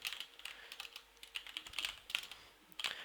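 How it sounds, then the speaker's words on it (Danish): Quick, uneven keystrokes on a computer keyboard while commands are entered for a CS:GO setup, with close clicks arriving in small bursts and short pauses, and no voices. "Først skal vi lige skrive nogle commands ind her."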